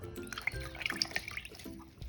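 Fabric painted with homemade dimensional ink is dipped and swished in water, producing close, soft sloshing and dripping with small splashes and no talk.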